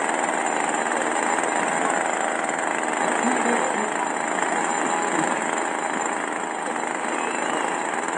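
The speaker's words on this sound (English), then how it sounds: "Do you have a chainsaw in public?" A chainsaw runs in a public place in Amsterdam, a continuous buzzing, high-pitched drone, steady and fairly loud, like idling nearby.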